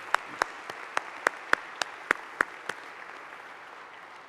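Applause from a community gathering's audience, starting with a few sharp distinct claps in a loose rhythm that fade into soft scattered patter, fairly quiet and heard alone.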